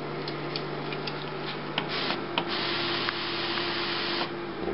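An HP Designjet Z3200 large-format printer advances its paper with a steady, close mechanical whir and soft rubbing, broken by a few faint clicks and ticks.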